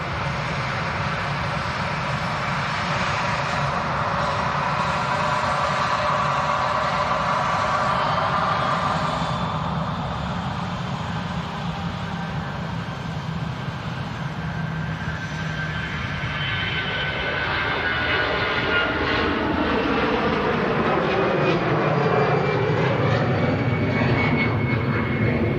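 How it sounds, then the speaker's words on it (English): An Iberia airliner rolls for takeoff at Manchester Airport, its engines building into a loud, sustained roar that swells and shifts in pitch as the jet accelerates, with no voices over it. "Iberia's on the takeoff roll already."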